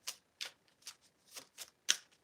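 Tarot cards being shuffled close up, soft riffling bursts repeating in a loose rhythm about every half second, quiet and alone.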